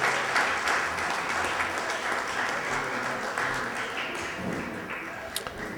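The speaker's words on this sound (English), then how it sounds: "How about another round of applause for the Riverside Township Band?" Applause for a township band at a community Christmas radio-play show, a full, steady roar of many hands clapping at a constant level, gently tapering toward the end.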